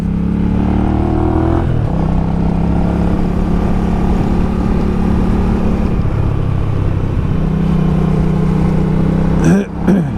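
A Hyosung GV250 250cc motorcycle engine drones steadily at high revs on a road ride, a loud continuous buzz with slight pitch shifts, with wind rush and a brief disturbance near the end.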